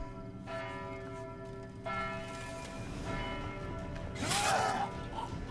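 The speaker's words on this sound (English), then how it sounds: "Oh, ringing the bell." A church bell rings with sustained tones over a steady background hum, followed by a brief rustling burst, in the video game The Witcher 3: Hearts of Stone.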